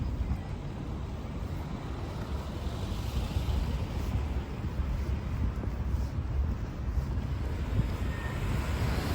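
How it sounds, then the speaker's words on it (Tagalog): Steady outdoor wind rushes and buffets the microphone as a cool breeze blows along a roadside with passing cars in Canada, a continuous low roar with no talking. "simoy ng hangin"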